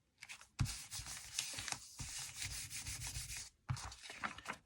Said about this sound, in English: And then I have my sanding block.